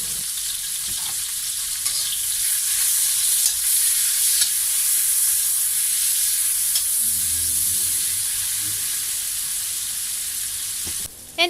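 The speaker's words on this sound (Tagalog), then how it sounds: "At ilagay naman natin ngayon itong ating onion at gigisahin lang natin siya." Onion sautéing in rendered pork oil in a pan gives a steady, loud, close sizzle and hiss with light stirring scrapes, running continuously with no talking.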